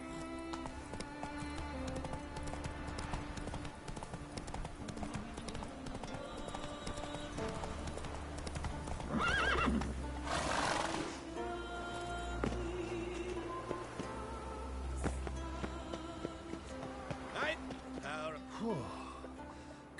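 Roach, Geralt's horse in The Witcher 3, trots with a steady clip-clop of hooves across the whole stretch, under game music and occasional voices.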